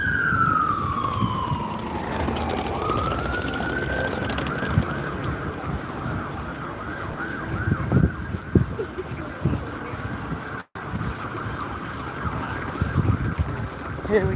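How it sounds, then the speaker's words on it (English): A Mercedes-Benz Sprinter ambulance siren wails at a distance, sweeping down and then holding a steady tone, heard outdoors in Gloucester over wind noise and general street and traffic rumble. "some Mercedes-Benz Sprinter ambulance has been called out"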